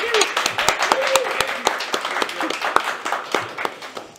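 Audience applause welcoming puppeteer Alison Duddle to a Q&A event: a steady run of many hand claps, moderately loud and close, with a faint voice underneath.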